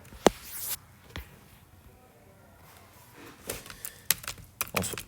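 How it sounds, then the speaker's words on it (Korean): Scattered clicks and taps of a computer keyboard, a few isolated keystrokes with pauses and a short burst near the end, fairly close. "선생님 그냥 그 타자로 한번 쳐드릴게요. 키보드로."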